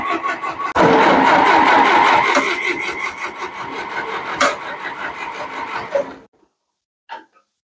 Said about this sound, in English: The Fergeson is just turning over and over